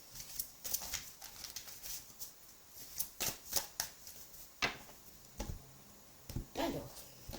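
Tarot deck being cut and shuffled by hand, a string of soft riffling flutters and papery slaps in quick bursts, quiet and close.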